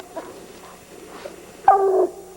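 A hunting dog whimpers and yips at a tree during bear season, with faint short cries followed by one louder, strained bark-whine near the end against a quiet outdoor background.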